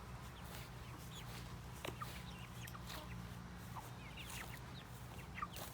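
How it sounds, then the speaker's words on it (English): Backyard garden chickens softly clucking and chirping in scattered short calls over a low steady hum, fairly faint and with no talking. "here's some of the chickies"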